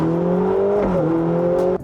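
Ferrari Portofino M V8 turbo engine accelerating on a wet road in sport mode, a loud, smooth rising drone with a brief dip at a gear change before climbing again.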